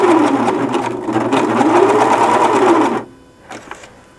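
A sewing machine stitches a T-shirt seam up close, a loud, steady whirring hum with a faintly rising and falling pitch that runs for about three seconds, then cuts off, leaving a couple of soft clicks.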